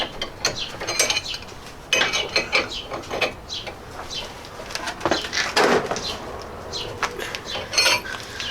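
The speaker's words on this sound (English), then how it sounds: "So I'm going to try with a box end wrench and another wrench" A box end wrench works on a rusted ball joint on a Jeep Cherokee, giving repeated metallic clicks, ratcheting scrapes and clanks in irregular bursts, fairly close and loud.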